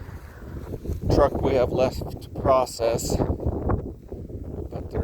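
Wind gusting into the microphone outdoors at a semi truck salvage junkyard in southern Idaho, low rumbling buffets under someone talking throughout.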